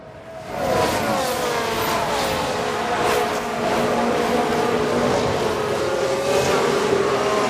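Formula 1 race cars in the F1 Manager 2022 video game, engines roaring loudly and continuously with a shifting whine as they pass and pull ahead, no voices.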